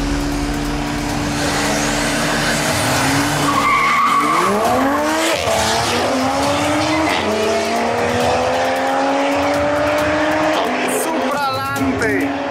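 A 430 hp street car launching on a drag run, tires screeching and skidding as the engine climbs through rising gear pulls, loud and close throughout, with brief voices mixed in.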